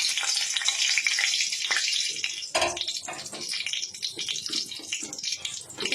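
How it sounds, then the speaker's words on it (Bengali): Dry red chillies tempering in hot oil, a loud, continuous close-up sizzle and crackle, with a few stirring scrapes midway as the pan is shaken. "দুটো শুকনো লঙ্কা ফোড়ন দিয়ে দিলাম একটু নাড়াচাড়া করে দিলাম"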